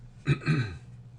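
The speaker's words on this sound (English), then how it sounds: "Still got a little cough from my getting over the flu." A single cough with a short follow-up, close and fairly loud, from a man getting over the flu, alone with no talk around it.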